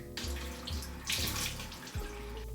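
Water runs and splashes at a bathroom sink during face washing, a steady, close rush broken by several louder splashes, with no voices.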